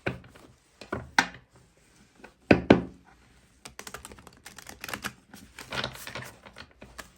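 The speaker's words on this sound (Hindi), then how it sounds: "ऑरेकल कार्ड से 4 कार्ड्स निकालूंगी" Oracle cards drawn and handled from a deck make sharp flicking taps and papery shuffles, arriving in irregular bursts with quiet gaps between them.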